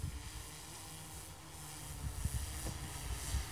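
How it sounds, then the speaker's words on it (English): A DJI Phantom 4 drone taking off in a field during weed mapping, a steady whirring rotor hiss that swells slightly as it lifts, heard at a moderate distance with no voices. "What you can hear is another drone taking off."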